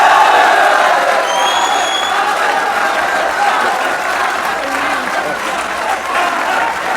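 A TV studio audience breaks into loud applause for Babar, dense clapping mixed with cheers and whoops that carries on steadily for several seconds, tapering slightly toward the end.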